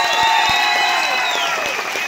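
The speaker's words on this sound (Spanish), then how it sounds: "¡Aplausos para Cantinflas!" A loud, sustained burst of applause and cheering for a Cantinflas costume in a Halloween contest at a night club: dense crowd clapping with whistling, held steady throughout, and a few louder claps standing out.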